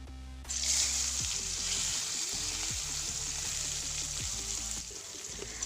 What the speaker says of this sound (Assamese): মাছ ভজা সেই একেখিনি তেলতে এতিয়া মই দি দিম সৰু সৰুকৈ কাটি লোৱা দুটা আলু আৰু সৰু